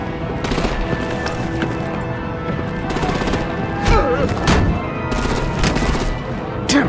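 Sustained automatic gunfire and artillery bursts in the video game Batman: The Enemy Within, with rapid repeated shots and heavier booms rolling continuously at close range and high volume, with no talk over it.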